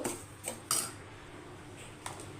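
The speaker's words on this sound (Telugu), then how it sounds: "ఈ రవ్వ వేసుకొని మనం లో ఫ్లేమ్లో ఇలా ఫ్రై చేసేసుకోవాలి తిప్పేసుకుంటూ" Semolina (rava) is stirred and fried in a pan over a low flame, with a few light close clinks of a spoon against the pan over a faint steady background.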